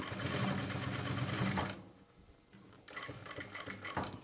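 Sewing machine stitching piping onto a blouse, a fast whirring run of stitches, a brief pause, then another quieter burst of steady stitching, fairly faint overall.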